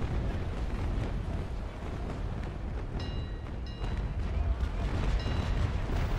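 Ship cannons fire during a sea battle in the Naval Action game. Heavy booms and rumbling bursts run loud and continuous, with a few faint high tones over them.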